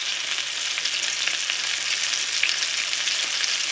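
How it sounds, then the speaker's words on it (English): Large pieces of catfish fry in hot oil with a steady, dense sizzle that holds evenly throughout, close and fairly loud, with no voices over it. "these are quite a bit bigger pieces of catfish, so it'll take a little bit longer to fry out"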